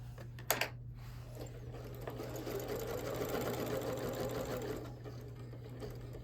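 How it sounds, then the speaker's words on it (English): A sewing machine stitching quilting lines on a scrap table runner, running in a steady close whir for several seconds after a couple of sharp clicks at the start, then stopping. "I'm going to meet up with that line, and then I'm just going to turn and just do a little back stitch"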